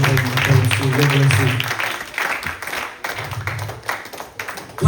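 A church congregation breaks into rapid, dense clapping as an offering of applause. The clapping is close and loud, mixed with voices and a sustained musical tone early on, and turns more scattered toward the end.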